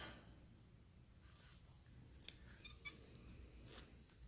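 Scissors trimming the edges of stretched fabric binding on a sewn head sock mask, a few quiet close snips clustered toward the end over a faint low hum.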